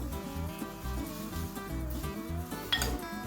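Seasonings including ground black pepper, all-purpose seasoning and lemon are stirred together in a bowl, with a spoon clinking and scraping against the dish in quick close strokes.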